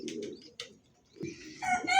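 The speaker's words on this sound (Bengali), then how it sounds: "এটা গোল্লা কবুতর" Deshi Golla pigeons coo in a loft, low throaty rolling coos in short bursts close by, with a few brighter chirps and wing sounds mixed in.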